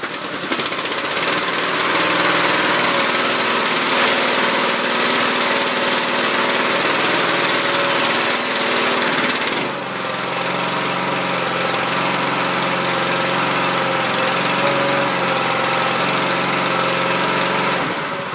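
A petrol engine on a cheap Kocu high-pressure washer in Hanoi runs loud and continuous with a buzzing rattle, briefly dipping midway before settling into a steady, slightly lower drone; no talking.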